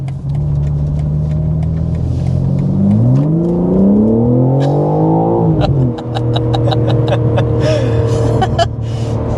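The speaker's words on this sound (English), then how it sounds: "BMW's 3-liter turbo inline 6-cylinder. This is the S58" BMW M4 CS with its S58 3-liter turbocharged inline-six revving hard, pitch climbing through a sweep then dropping back to idle, with sharp crackles and pops afterward, loud and close.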